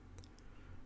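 Three quick, faint mouse clicks close together in astrophotography stacking software, with a short gap before the last click, over a quiet hum.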